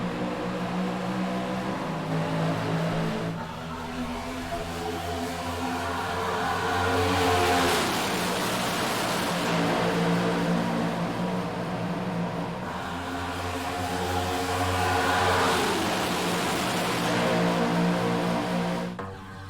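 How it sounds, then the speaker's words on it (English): A field of race cars starts the 2023 Daytona 500 as a continuous engine roar that swells and recedes in waves, with revving tones sweeping past, loud and steady from start to finish. "as the green flag in the Daytona 500 is out. We're racing in 2023."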